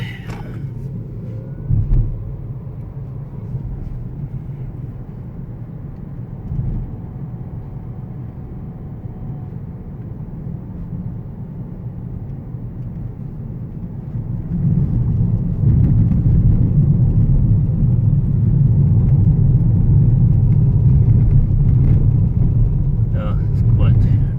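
A Peugeot e-208 electric car rolls over a bumpy road, heard from inside as a low, steady rumble with occasional thumps from the suspension, growing louder and rougher partway through as the surface worsens.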